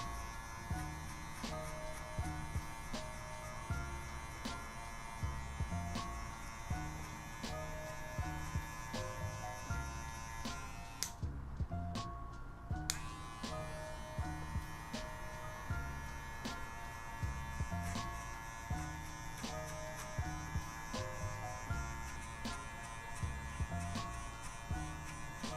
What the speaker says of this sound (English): you want to just stay square with the clipper, ramp off the head, staying square.